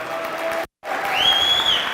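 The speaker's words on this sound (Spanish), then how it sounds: "Ponles un fuerte aplauso a todos los que vienen por primera vez." Crowd applause with cheering welcoming first-time attendees at an Organo training event, a full, steady roar of clapping broken by a brief cutout, then resuming with a high whistle rising over it.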